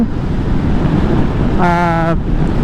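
Steady wind rushes past the microphone in a low, continuous roar while riding at Caliraya, with a brief tonal hum rising partway through.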